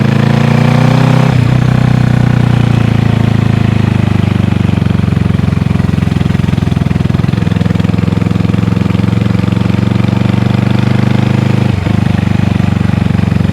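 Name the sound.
Honda CB360 motorcycle engine running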